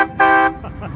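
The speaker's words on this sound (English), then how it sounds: "So use the horn there. Got a big air horn on it." A big air horn on a banger racing van gives one short, loud blast, close by, with engine and background noise around it.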